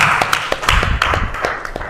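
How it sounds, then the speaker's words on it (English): Brief applause at a national press conference of town planners: a few quick, loud claps close by, sparse rather than a full ovation. "We have a round of applause for"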